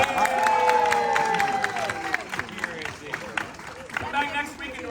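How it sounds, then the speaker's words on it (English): An audience at the Texas Renaissance Festival claps during an improv show, a spread of uneven claps and cheers. A voice and other tonal sounds run over the top at moderate loudness. "Clap for good parenting."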